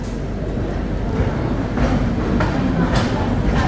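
A Central Railway Rajdhani Express between Delhi and Mumbai, heard from inside as it runs past the Telangana Express near Jhansi: a loud, continuous rumbling roar with rhythmic wheel clatter and brief rushing surges.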